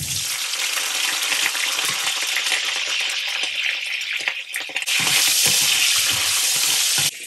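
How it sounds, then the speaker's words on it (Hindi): Cauliflower fries in a pan with a dense, continuous sizzle, close and loud, with occasional small clinks and a brief dip midway. "चलिए गोभी हमारा फ्राई हो रहा है"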